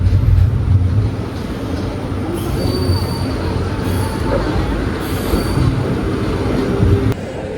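An Intercity Express train rumbles along the rails with wheels squealing and metallic clatter, a loud continuous roar as it rolls into Madurai Junction station.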